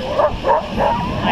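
Several sled dogs bark and yip excitedly in Skagway, Alaska, a quick series of three or four close, loud barks in a row.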